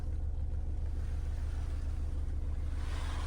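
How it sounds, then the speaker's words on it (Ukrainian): A Skoda Octavia Style 2.0 TDI diesel engine idling, a steady low rumble with an even, pulsing throb that stays constant and close throughout, with no talk over it. "Моторчик працює рівнесенько, жодних проблем немає."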